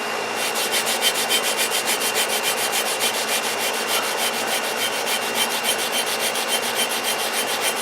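A coarse sponge scrubs rust off an old axe head in quick, rhythmic back-and-forth strokes, producing a close, continuous rasping scratch that pulses with each stroke.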